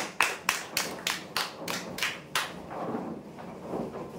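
A small crowd at a prize draw claps for the winners, starting with a series of sharp, evenly spaced claps that fade into softer, scattered applause.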